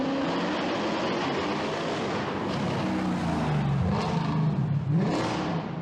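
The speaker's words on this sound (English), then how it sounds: "the legendary C63 W204 with the M156 engine" A Mercedes C63 AMG W204 with its M156 engine revs loudly, its exhaust note rising and falling in pitch through several pulls, with no talking over it.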